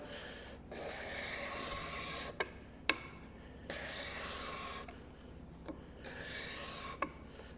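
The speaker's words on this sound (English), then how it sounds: "you see you're getting shavings like almost like a hand plane" A card scraper drawn across wood to lift shavings: three long rasping strokes, close and fairly soft, each ending with a sharp tap as the steel leaves the board.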